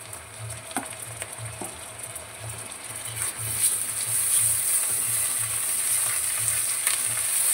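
Ginger garlic paste sizzles and fries steadily in a hot pan, with a rhythmic low stirring scrape underneath and the hiss growing louder and denser partway through, close and alone.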